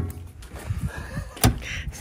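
A small access door on the canopy of a Toyota Tacoma flatbed tray opens with light clicks and a brief sharp latch clack near the end, close by.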